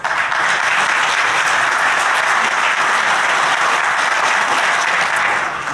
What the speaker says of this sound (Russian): Хорошо, что вы аплодируете